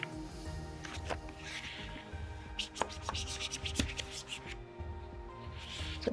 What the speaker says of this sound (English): I'm just going to pull and scrape along as I go.